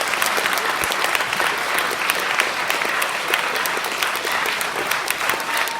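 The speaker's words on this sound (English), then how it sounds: "would you give a big round of applause for our teachers today?" A teacher-panel audience gives its teachers a big round of applause, dense and steady clapping from a full room that carries evenly from start to finish with no voices on top.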